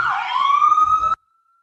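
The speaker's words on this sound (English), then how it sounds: "The ambulance is here." An ambulance siren wails loudly outside during an indoor lecture, one rising tone with strong harmonics that cuts off abruptly after about a second.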